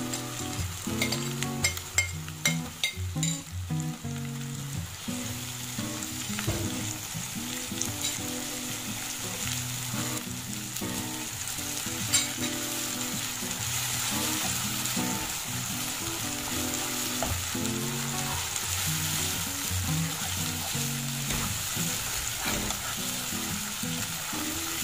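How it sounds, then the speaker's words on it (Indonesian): Ground chili paste frying and sizzling in a pan for dendeng balado, a steady close hiss with the scrape and clatter of stirring, busiest at the start and then settling into an even sizzle. "Baru kita masukkan cabai gilingnya."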